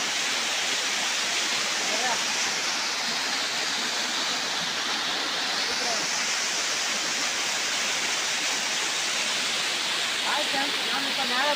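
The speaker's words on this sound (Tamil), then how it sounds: "காட்டுக்கு நடுவில் இருக்கு. இது எங்களோட வாட்டர் ஃபால்ஸு." A forest waterfall roars as a steady, broad rush of falling water, constant and fairly close throughout, with faint voices now and then beneath it.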